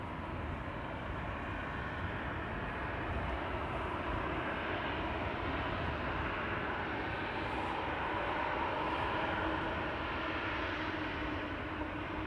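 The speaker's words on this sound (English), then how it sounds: "Next departure from 18 left is approaching, KLM flight 1355 to Prague. That's a 737-800." A KLM Boeing 737-800 bound for Prague departs from runway 18 left at Amsterdam Schiphol, its jet roar a steady, fairly faint broadband rumble heard from a distance with no talk over it.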